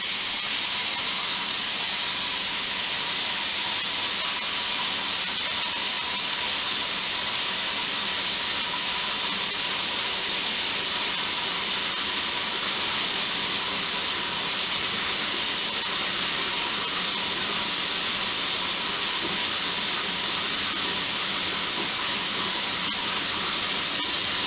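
A constant broad hiss of escaping air from a bathtub cushion lift's valve runs unbroken throughout, steady and fairly loud, with no voices.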